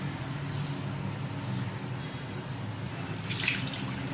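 Water runs steadily into a cooking pot of chicken marinade with a constant splashing rush, close by, brightening briefly near the end.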